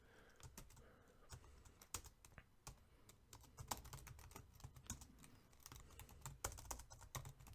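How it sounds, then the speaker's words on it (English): Keys clatter on a computer keyboard in quick, irregular bursts of close, soft clicks with brief pauses, no voices. "Give me a second to type it."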